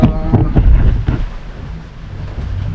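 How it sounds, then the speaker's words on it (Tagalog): Strong wind buffets the microphone with a heavy low roar, rain noise hissing beneath the gusts, loud and close. "lakas ng hangin sa ulan yun mga amigo"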